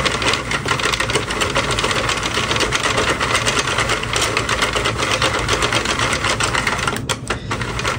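A domestic knitting machine runs across rows of yarn, making a dense, continuous mechanical clatter and whir, steady and close for the whole stretch with a brief dip near the end.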